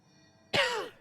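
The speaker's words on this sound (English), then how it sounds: "I may have some random coughing stuff." A single short throat-clearing cough from a man with an irritated throat, abrupt and close, lasting under half a second after near silence.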